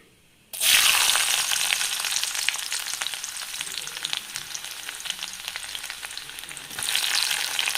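Loud, steady sizzling as ginger, garlic and green chilies are dropped into hot oil, starting abruptly and crackling continuously up close.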